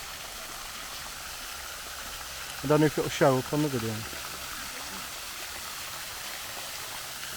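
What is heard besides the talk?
water running down the roof of a Chatsworth fountain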